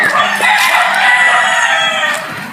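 A White Jacket game rooster crows once, loud and close, one long sustained call that tapers off at the end, with faint background sounds from a game farm.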